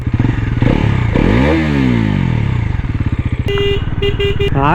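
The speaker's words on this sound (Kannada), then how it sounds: "ಸ್ಟಾರ್ಟ್ ಮಾಡಿ ಸೌಂಡ್ ನ ಕೇಳೋಣ" A Bajaj Pulsar NS400Z motorcycle engine starts and runs close by, loud, with a rising and falling rev note. Clear, steady beeping tones join near the end.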